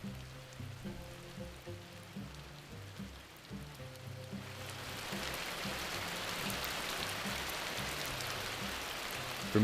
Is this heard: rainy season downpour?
yes